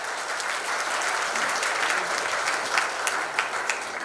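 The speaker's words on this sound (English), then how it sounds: "Please give them a big round of applause." Audience at a closing ceremony giving a big round of applause for the secretariat team, a dense continuous wash of clapping, fairly loud and steady throughout.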